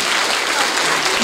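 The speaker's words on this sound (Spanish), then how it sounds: "Un aplauso más fuerte a la señora." A crowd applauds a woman being honored at a recognition event, a brief dense burst of clapping heard close and fairly loud.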